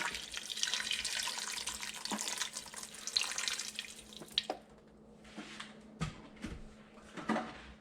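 Tap water pours steadily into a pressure cooker to cover pork belly, then the flow stops, followed by faint splashes, drips and light knocks of the pot.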